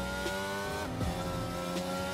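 A racing car in the F1 22 game, driven in Spain, nearly spins out: a steady, loud engine drone with shifting harmonic pitch and brief tire-squeal bursts, continuous and up close with no talking.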